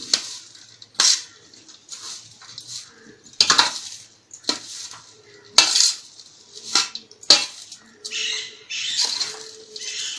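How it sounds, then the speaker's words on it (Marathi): A metal spoon mixes onion garlic masala in a vessel, giving a run of sharp clinks and scrapes against the pan in uneven bursts, close and fairly loud with quiet gaps between. "आता हे सगळं आपण मिक्स करून घेऊया"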